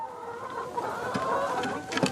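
Laying hens on a small egg farm cluck in a low, continuous murmur with a few sharper calls rising near the end, fairly close and alone without talk.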